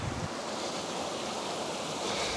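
River water rushing around someone standing midstream, a continuous close broadband wash of flowing water with some wind buffeting, steady and fairly quiet throughout.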